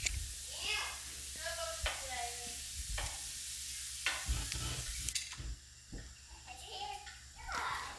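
A child stirs ground beef in a hot pan, with a steady sizzle and frying crackle under scraping stirs. Children's voices chatter close by throughout.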